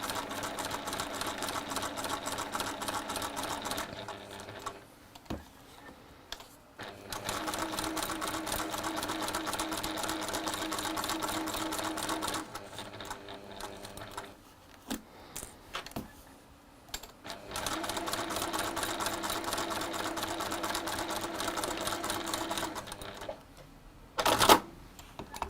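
A sewing machine runs a holding stitch around fabric for a patchwork project, its rapid mechanical whirring coming in three long steady bursts separated by short pauses, with a sharp clack near the end.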